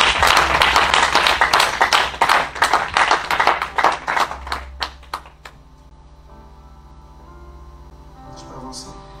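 A church congregation claps rhythmically and loudly in a dense, steady beat that thins out and fades into scattered claps and a quiet room, with faint voices near the end.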